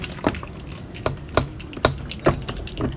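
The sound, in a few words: keys jangling while locking a padlock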